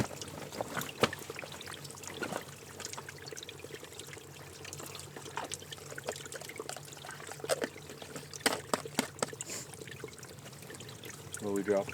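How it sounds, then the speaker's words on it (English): A small mountain water source in high backcountry trickling thinly, a steady faint splashing dribble with scattered clicks and knocks, close by and alone. "Not a whole lot of water flowing here"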